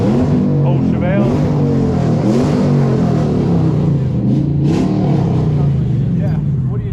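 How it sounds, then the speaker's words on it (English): A car revs at a busy car meet, its engine note swelling and dropping over a few seconds amid a constant crowd murmur and nearby people talking. "was that car that just revved?"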